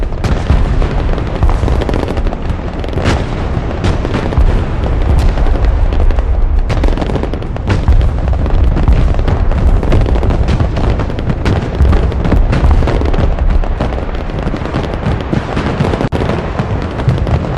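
Dense, continuous barrage of booming artillery fire and explosions in the video game Broken Arrow, loud and sustained with overlapping blasts and crackling impacts throughout.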